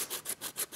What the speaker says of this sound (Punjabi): ਮਤਲਬ ਚਾਕੂ ਨੂੰ ਤਿੱਖਾ ਕਰ ਦਿੰਦੇ ਆ ਇਹ